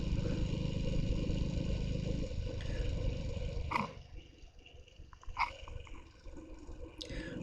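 A 1924 BSA Roundtank motorcycle engine runs steadily with a low chugging drone that eases off partway through, with a few sharp clicks and clatters over the quieter idle.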